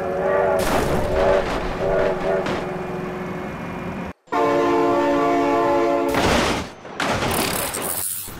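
A train horn blares loudly in the BeamNG.drive driving game, sustained harmonic blasts broken by a short gap, with engine rumble and crash noise mixed in.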